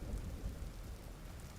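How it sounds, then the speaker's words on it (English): Thunder rolling with steady rain during a temporal storm warning in a video game, a continuous low rumble under a wash of rainfall, fairly faint and without any talk. "If you listen on that warning, there's bells that play in the distance."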